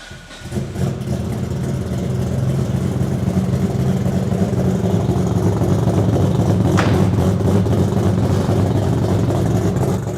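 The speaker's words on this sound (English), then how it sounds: "I actually want you guys to hear how this engine sounds" A 1000 HP Nissan GT-R engine fires up and settles into a loud, rumbling, lumpy idle with rowdy low throb, held close and steady for ten seconds after the crank.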